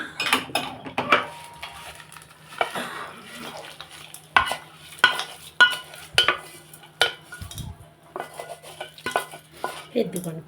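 Mustard tamarind rice (pulihora) being mixed in a pot with a spoon: repeated scraping and metallic clinks of utensil against pot in an irregular rhythm, with faint sizzling underneath and no clear talk.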